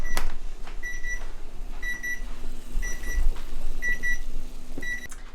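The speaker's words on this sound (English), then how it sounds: "And that is my egg timer." An egg timer beeps in a kitchen with a tower fan running: five evenly spaced double beeps, high and piercing, about one per second, loud and close over a low background hum, with no talking.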